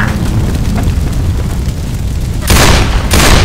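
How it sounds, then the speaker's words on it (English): A pipe bomb bursts in the zombie shooter Left 4 Dead 2, played in VR, with a loud booming blast and a roaring wash of noise that swells in two heavy bursts near the end. "Pipe bomb."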